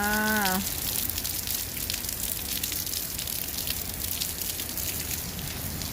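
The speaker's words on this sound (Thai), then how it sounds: "ดูเสียง เสียงฝนนะจ๊ะเสียงฝนตก" Heavy rain pouring down in Iceland, a steady dense hiss running throughout, preceded by a brief tonal sound at the very start.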